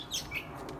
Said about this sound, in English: Birds are mad at me today.